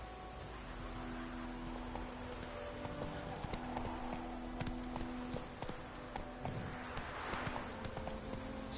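Roach, a horse in a video game, gallops with steady hoofbeats under faint rain and a low game soundscape, heard at moderate distance with no talking.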